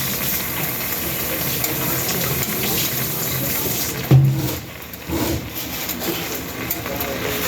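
Tap water runs steadily into a repurposed container being rinsed out, a close, continuous gushing splash that briefly shifts and dips in the middle before resuming.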